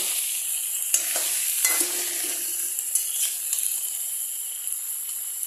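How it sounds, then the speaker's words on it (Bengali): Mixed vegetables frying in a pan, with a spatula stirring and scraping in several distinct strokes over a constant close sizzle. "এইভাবে নেড়ে তলা সবজিগুলোকে উপরে আনার চেষ্টা করবো"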